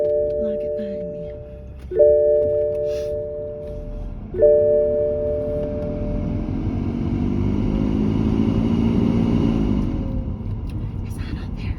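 A car rolls through a gate onto private property on a mesa in New Mexico, its engine rumbling low and close. A person speaks at the start and two bright tonal chimes or beeps ring out before the engine note swells.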